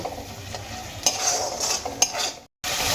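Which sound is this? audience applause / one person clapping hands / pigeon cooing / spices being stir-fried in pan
spices being stir-fried in pan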